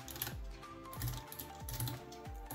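Someone types code on a computer keyboard with quick, soft clicking keystrokes in short bursts, close and fairly quiet, with no talking.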